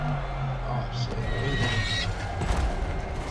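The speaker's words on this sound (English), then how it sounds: "Sound like a horse?" A horse whinnies in the video game Horizon, a loud, close neigh over clip-clop hooves and game noise, with a voice talking over it.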